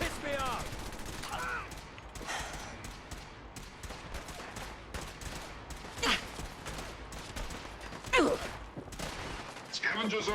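Cannons fire aboard the USS Constitution in a naval video game, heard as a dense barrage of booming blasts with several sharper reports standing out near 6, 8 and 10 seconds, over continuous battle noise and music.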